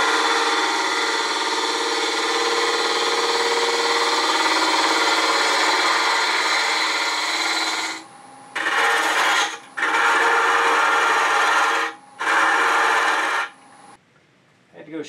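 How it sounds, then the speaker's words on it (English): A turning tool hollowing wood on a lathe, a loud steady cutting hiss for about eight seconds, then four shorter bursts of cutting separated by brief gaps. "Time to start hollowing."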